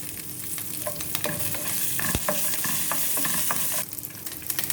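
Ginger and green chilies sizzle in hot oil while a spoon stirs them through the pan, a steady close crackle punctuated by scraping strokes, no voices.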